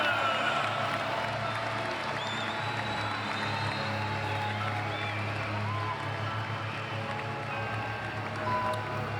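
A stadium crowd applauds a Lyon goalkeeper, Anthony Lopez, before a match, a steady distant wash of clapping and crowd noise under a low hum, with a commentator talking over it.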